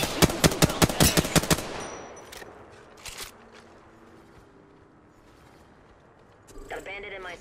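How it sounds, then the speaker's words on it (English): Rapid automatic gunfire in the shooter game Apex Legends opens with a fast burst of about eight close, loud shots, then scattered single shots over a low game ambience, with a brief voice at the end. "I am taking fire"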